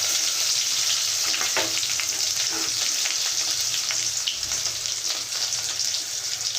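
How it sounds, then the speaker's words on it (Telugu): Garlic, dried red chillies and onion pieces fry in hot oil for a Telugu dal, giving a dense, continuous close sizzle with scattered pops and light stirring. "వెల్లుల్లిపాయ ఎండుమిర్చి వేసుకోవాలి ఉల్లిపాయ ముక్కలు వేసుకోవాలి"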